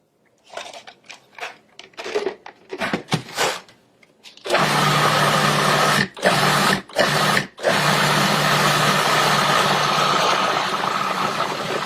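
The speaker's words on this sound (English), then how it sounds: "it still needs to be processed a little bit more" A food processor blends a cilantro mixture. A few short, choppy pulses come first, then a loud, steady whirring motor runs on with three brief stops and close, continuous grinding.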